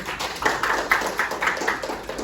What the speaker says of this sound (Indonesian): kasih tepuk tangan dulu untuk kita hari ini